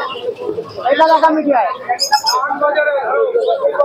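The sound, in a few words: pigeons cooing at a pigeon market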